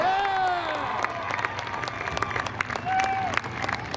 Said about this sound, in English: How about a round of applause for tonight's late model feature winner, Jacob Rowdy Burns